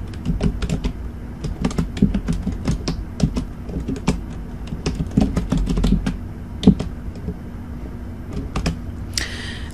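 LaTeX commands are typed on a computer keyboard, quick irregular bursts of clicking keystrokes, close and fairly crisp, with no one talking.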